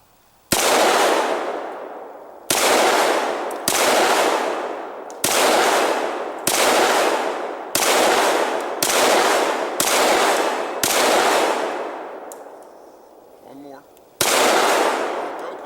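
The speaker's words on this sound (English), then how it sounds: "They both fired 10 rounds out of each magazine." Shots from SIG 556 and SIG 551 rifles crack loudly and close. About ten single rounds are spaced a second or so apart, each with a long ringing decay, and there is a brief pause before the last shot.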